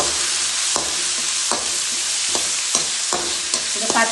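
Green chilies, ginger, garlic and curry leaves sautéing in a pan for Kerala-style beef, a close steady sizzle broken by repeated sharp scrapes and knocks of a stirring spoon, no talk.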